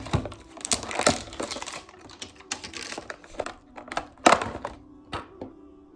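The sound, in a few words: opening a package of Medjool dates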